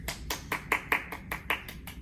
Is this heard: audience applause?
yes